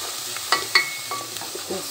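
Soffritto sizzling in a pan with a dissolved stock cube, a steady close crackling hiss with a few sharp clicks of a spoon stirring and tapping against the pan, no talking.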